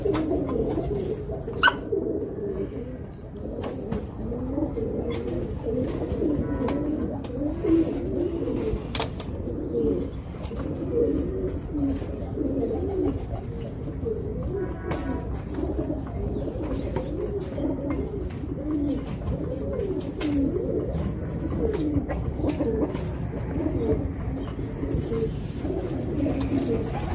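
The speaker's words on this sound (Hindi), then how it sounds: "इसके उस तरफ मेरे कबूतर हैं" A flock of pigeons cooing continuously in low, throaty burbles, overlapping and steady throughout, with faint background rustling.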